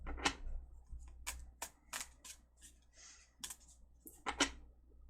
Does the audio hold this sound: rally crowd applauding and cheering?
no